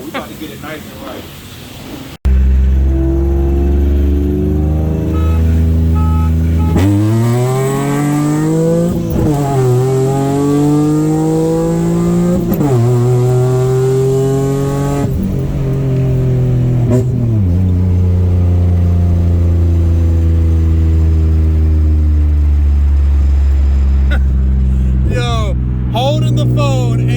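A Ford Taurus SHO's engine revs loud and close in a garage, climbing and falling in pitch through repeated throttle blips over about twenty-five seconds.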